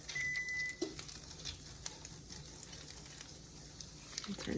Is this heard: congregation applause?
no